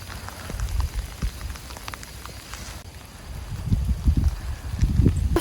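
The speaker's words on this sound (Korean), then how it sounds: "이 빗방울 보이세요? 우두구둑 소리 들리시려나?" Heavy rain pours down on a hiking trail of Olle route 1, a steady dense patter of close drops hitting the ground and gear, growing heavier toward the end, with no talking.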